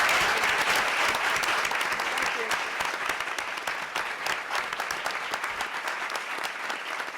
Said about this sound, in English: Please give a warm round of applause to a true champion on and off the court, Billie Jean King